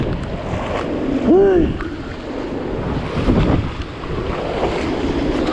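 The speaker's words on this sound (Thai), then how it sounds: "แต่ลมมันแรงอยู่" Strong storm wind buffets the microphone outdoors near the Mekong River, a steady roaring rush with gusting swells, while a brief whistling tone rises and falls early on.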